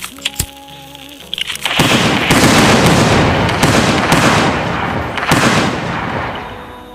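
A grenade-type firework explodes outdoors at festival time: a few faint clicks and tones first, then a loud, sustained crackling burst of rapid pops and bangs that keeps rolling for several seconds.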